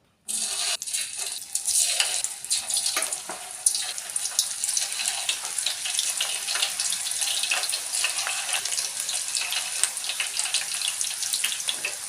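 Battered okra, banana flower and bitter gourd finger chips drop one by one into hot oil, setting off a loud, steady hiss and crackle of frying that carries on unbroken to the end.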